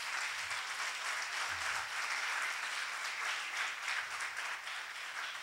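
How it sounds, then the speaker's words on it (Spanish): Steady, dense congregation applause in a church, a continuous wash of many hands clapping at moderate distance with no break, with faint low voices underneath. "dan un aplauso a Dios"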